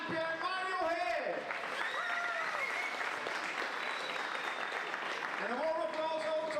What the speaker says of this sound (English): One big applause for European men's 9-ball champion Mario Hay